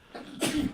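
A single short, sharp sneeze bursts out close by during a sports talk show, rising quickly from a quiet breath and ending abruptly.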